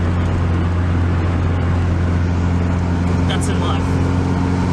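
Steady low engine drone from a 50-year-old Datsun 1600 car while driving, a constant interior rumble running underneath someone talking throughout.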